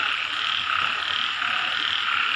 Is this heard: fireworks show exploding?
no